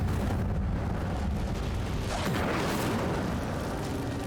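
An Incendio fire spell cast in Hogwarts Legacy, heard as a loud sustained whooshing roar of flame with booming, rumbling texture that swells and holds throughout.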